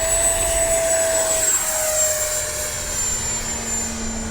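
An FMS Rafale 80mm electric ducted-fan RC jet flies past, a loud steady whine that shifts downward in pitch as it passes and recedes.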